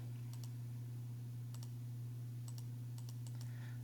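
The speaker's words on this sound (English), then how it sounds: "let's go type that in just like I see it" Calculator keys pressed one after another, a series of faint, sharp clicks in small bursts over a steady low electrical hum.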